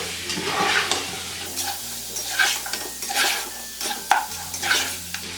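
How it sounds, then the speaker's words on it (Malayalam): Spice powders are stirred into green chilies frying in a pan while cooking kabsa rice. A spoon scrapes and clinks in irregular strokes over a soft, steady sizzle. "ഇനി എടുത്തു വെച്ചിരിക്കുന്ന പൊടികളെല്ലാം ഇതിലേക്ക് ചേർത്ത് കൊടുക്കാം. ഒന്ന് ഇളക്കി കൊടുക്കാം."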